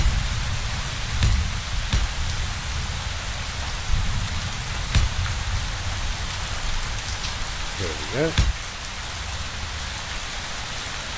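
Steady rain in the video game Space Engineers hisses down without letup, broken by a few sharp knocks and clicks, and a voice speaks briefly near the end.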